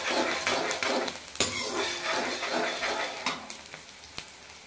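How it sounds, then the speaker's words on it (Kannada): Onions drop into hot oil in a pan for a chicken gravy and fry with a busy, crackling sizzle that swells and fades, punctuated by metallic spatula scrapes and knocks, close up and with no one talking. "ಇದು ಎಣ್ಣೆ ಚೆನ್ನಾಗಿ ಫ್ರೈ ಆಗಬೇಕು"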